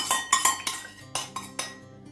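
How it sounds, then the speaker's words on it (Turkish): A whisk clinks and scrapes sharply against a bowl while yogurt cream is beaten for homemade butter, about ten quick metallic taps in an irregular rhythm, close and alone. "Şimdi ben bunu çırpma kabına alacağım bunları çırpmaya başlayacağız."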